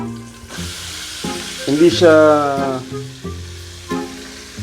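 Garlic and onion hitting hot oil for a spicy seafood dish, a sizzle running beneath a person talking who dominates the sound.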